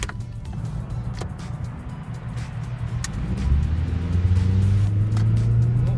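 A Suzuki Grand Vitara SUV engine hums steadily, then rises in pitch and loudness as it accelerates, a close, continuous roar without voices.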